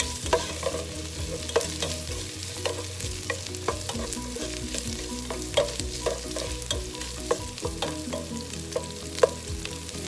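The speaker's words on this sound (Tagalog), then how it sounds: "Pinapan fry ko lang po ng konti yung pork para po mag-dark ng konti yung kulay niya." Pork frying in a pan for a mung bean stew, sizzling steadily while a utensil scrapes and stirs in repeated clinks and knocks, with no voices.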